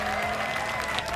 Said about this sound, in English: Big round of applause for Dan here.